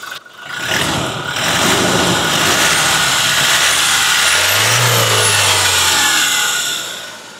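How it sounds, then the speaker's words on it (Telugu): A Toyota Innova Crysta 2.4G diesel engine revs close to the mic, climbing to a loud sustained drone that swells and settles without any voices. "ఒకవేళ మీకు ఇంజన్ సౌండ్ దగ్గర నుంచి ఉండాలి అనుకుంటే మనం మైక్ని అడిగి తీసుకోపోదాం"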